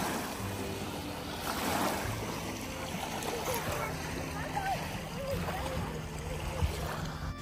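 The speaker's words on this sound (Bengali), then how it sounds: "বড় বড় ঢেউ আসতেছে দেখো" Large waves stirred up by a passing jet ski at a lake in a state park slosh and splash against a boat, steady watery churning with wind, while people talk and exclaim over it.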